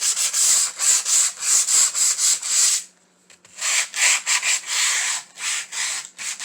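Close, rhythmic back-and-forth sanding of a wooden craft piece before painting, brisk rasping strokes in a steady run, a brief pause, then more strokes, with no voices over it.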